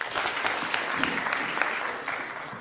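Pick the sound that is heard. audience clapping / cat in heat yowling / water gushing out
audience clapping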